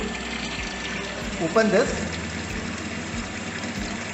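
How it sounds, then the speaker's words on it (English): Water flows through an orifice meter pipe in a flow-measurement lab rig beside a main tank and measuring tank, a steady broadband rushing that carries through the whole span, with a person speaking briefly over it. "this Orifice meter pipe is letting the water to flow through"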